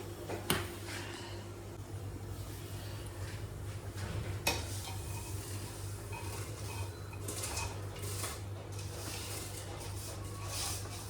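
Rinsed Gobindobhog rice tipped into a pot of boiling salted water, a couple of sharp clinks and a soft pour over a steady bubbling hum, close and without talking.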